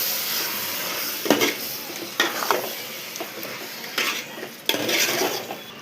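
Chicken frying in a pot for biryani, a soft continuous sizzle broken by several bursts of a spoon scraping and clanking against the pot as it is stirred.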